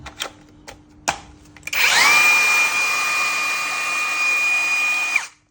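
A Makita cordless angle grinder spins up after a few clicks and handling knocks, letting out a loud, steady high-pitched whine for about three seconds before cutting off and winding down.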